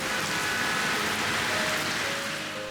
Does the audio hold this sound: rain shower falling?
yes